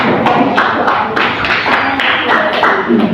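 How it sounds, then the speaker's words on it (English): A classroom of students claps together briefly, a run of uneven, close hand claps and taps with voices murmuring underneath. "Can you give a clap? Give a clap."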